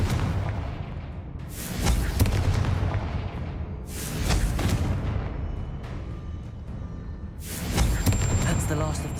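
Fiery Confringo spell blasts go off in the video game Hogwarts Legacy, with three loud booming explosions a few seconds apart, each one rumbling down into a sustained roar under faint in-game sounds.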